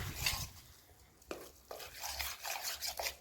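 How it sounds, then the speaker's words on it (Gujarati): Sooji dhokla batter mixed with tomatoes being stirred in a bowl: soft, faint scraping and swishing strokes, close by and irregular, with no voices. "ટમેટાં ને બધી વસ્તુ નાખીને એકદમ આને મિક્સ કરી નાખવાની છે."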